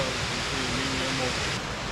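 A waterfall swollen by rain rushes with a constant broadband roar, loud and close, and a faint voice sits briefly beneath the water noise.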